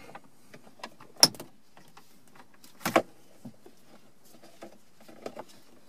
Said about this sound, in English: We'll grab one of our dash removal tools and start back near the edge and pry up between the console and the panel